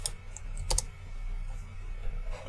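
Typing on a computer keyboard during a coding session, a quick burst of close key clicks followed by quieter scattered taps over a steady low hum, with no talking.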